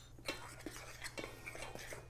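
Dry baking ingredients, flour with sugar and baking soda, mixed together in a bowl for wheat bran muffins, giving soft scraping and light clinks of a utensil in a steady rhythm, close and quiet.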